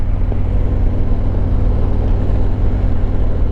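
A Harley-Davidson Road Glide Limited motorcycle cruises along, its engine giving a steady low rumble mixed with wind roar, loud and continuous with no voices.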